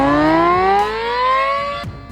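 A KTG-10 siren wails loud and alone in a long rising tone with many harmonics, sweeping steadily upward for about two seconds.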